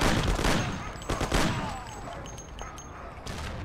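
Volleys of gunfire from the video game Mafia, dense overlapping shots and booms near the start, then scattered reports trailing off against a loud, busy background.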